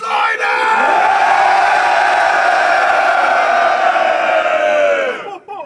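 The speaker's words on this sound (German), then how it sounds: "Macht bitte Lärm für Josef Steinschleuder!" A crowd at a rap battle event in Dortmund yells, whoops and roars in one loud sustained swell for about five seconds before cutting off abruptly.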